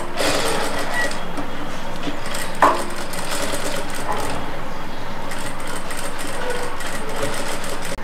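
A sewing machine stitching a double stitch while marking a scalloped neckline: steady, continuous mechanical whirring and rapid needle clatter throughout, with one small metallic click partway through.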